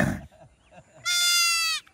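A goat being pulled by the neck during a tussle between two brothers herding goats lets out one loud, close, strained bleat lasting most of a second, after brief outdoor noise and faint voices.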